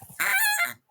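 A person's voice imitates a goose-like honking desert call, one loud, nasal, brassy honk lasting under a second, close to the mic.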